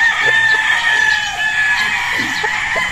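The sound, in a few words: Gilmore gamecock rooster crowing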